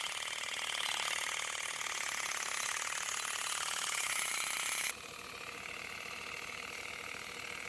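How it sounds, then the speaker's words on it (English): A tractor engine runs steadily, supplying air pressure to pneumatic shakers in an olive grove, with a loud continuous mechanical drone that drops to a slightly lower, quieter level partway through; no voices. "The tractor provides the air pressure to which tree lenses are connected."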